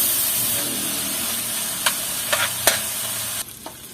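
Bacon frying in a pan with a little oil while cooking japchae, a continuous hiss close by broken by a few short scraping knocks, then the sizzle drops suddenly near the end.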